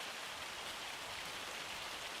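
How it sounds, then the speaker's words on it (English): Hail pelting down steadily in Farm Simulator, a dense, even hiss of countless small impacts with no pauses or voices. "It hails a lot around here."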